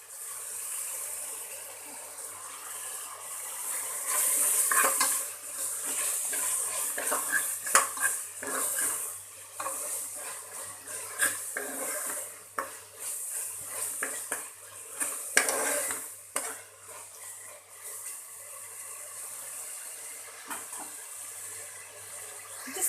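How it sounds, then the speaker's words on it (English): Mutton biryani with coriander and mint leaves being stirred and fried in a pot at home, with steady clinking of spoon against metal and scraping, close and fairly loud, with no talking. "Just fry it a bit for at least 1 or 2 minutes."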